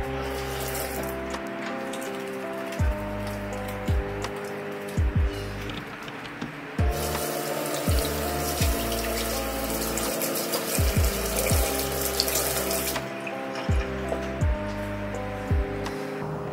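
Hands are washed under a running kitchen tap before pizza dough is made: a close, steady rush of water that pauses briefly and resumes, with tonal music playing underneath.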